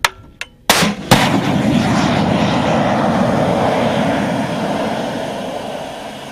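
US soldiers in training fire a Javelin anti-tank missile at a tank: a few sharp cracks of the launch, then a loud sustained roar of the rocket motor that slowly fades.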